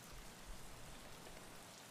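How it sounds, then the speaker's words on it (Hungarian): Rain falls in the video game Escape from Tarkov as a soft, even, broadband hiss of drops, heard alone and quiet throughout. "Bazzik, esik az eső."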